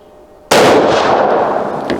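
A Winchester Model 70 rifle fires a single .270 Winchester round, one sharp, loud close-range report that bursts in abruptly and rings out for over a second with no talk.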